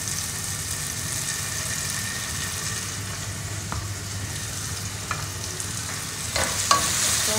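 Tomato paste sizzles and fries in a pan for a sweet and sour rabbitfish (danggit) dish, a steady broadband hiss with a low hum beneath and a few soft scrapes and clinks of stirring near the end.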